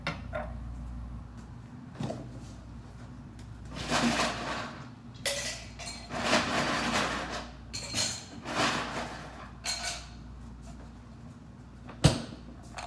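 Ice cubes clink and clatter against a glass of lemon water in several bursts, with a sharper knock near the end.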